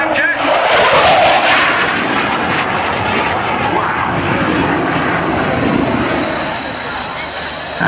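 Propeller aircraft making its final low pass at the East Fortune airshow, a loud sustained engine roar that swells and slowly fades, with a crowd murmuring underneath.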